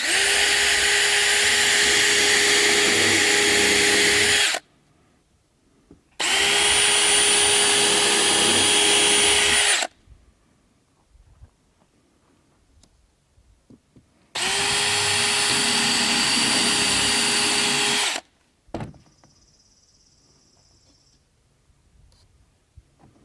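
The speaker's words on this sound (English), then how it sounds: "I'm going to pre-drill some holes so we don't break anything" Power drill boring pilot holes into wood for chicken coop windows: three sustained, loud whirring bursts of several seconds each, separated by quiet pauses with faint handling noise.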